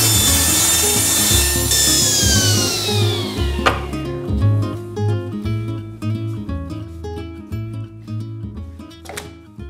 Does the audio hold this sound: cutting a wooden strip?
yes